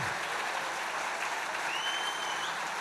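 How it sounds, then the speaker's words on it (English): A summit audience applauds tabla maestro Taufiq Qureshi, steady dense clapping that fills the room evenly for a few seconds, with faint whistles or cheers drifting over the top. "Big round of applause for him."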